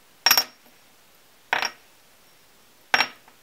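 A solid plastic Pikachu gashapon figure clacks down onto a hard surface three times, evenly spaced, each a sharp, close knock with a brief rattle and no talking.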